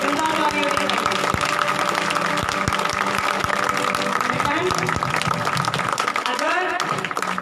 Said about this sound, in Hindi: जोर से भाई ताली जोर से होनी चाहिए। जिंदा ताली होनी चाहिए।